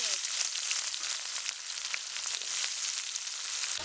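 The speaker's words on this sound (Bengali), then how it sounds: "পেঁয়াজ পেঁয়াজটা একটু লাল লাল করে ভাজতে হবে" Onions frying in oil with cumin seeds for a Bengali pabda fish curry, producing a continuous close, fairly faint crackling sizzle with scattered pops and no speech.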